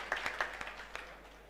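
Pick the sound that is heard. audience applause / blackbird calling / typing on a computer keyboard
audience applause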